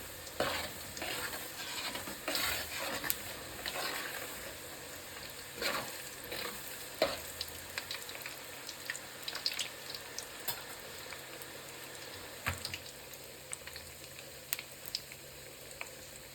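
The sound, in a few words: frying chana dal in a pan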